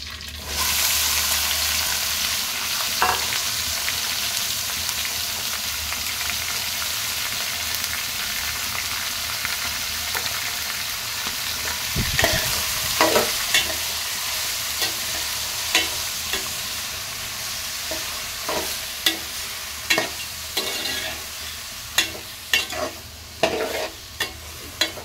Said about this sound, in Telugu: ఇదలా ఫ్రై అవుతుంది.